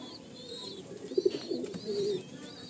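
A Madrasi pigeon being handled lets out soft, low coos and a short throaty murmur, close and fairly quiet, with faint background sounds behind it.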